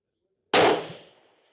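A single rifle shot cracks out at an outdoor range with Garmin Xero and Athlon Rangecraft pocket chronographs set up. It is sudden and very loud, then decays quickly into a short fading echo after silence.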